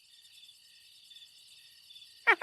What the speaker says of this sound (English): Oh, that's a nice recording of a cricket.